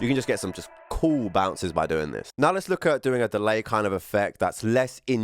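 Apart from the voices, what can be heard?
No distinct noise like a dog, phone or traffic.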